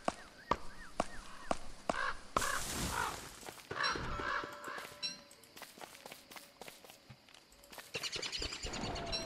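Crows caw in the game Don't Starve, a few harsh calls scattered among footstep taps and other game effects, with a voice talking over parts of it.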